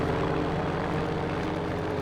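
A Bf109 fighter plane's propeller engine drones steadily and loudly in Battlefield V, a continuous close engine roar without talk.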